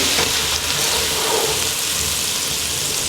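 Lamb chops fry in a pan with ginger over medium heat, giving a steady, close, unbroken sizzle with no voices.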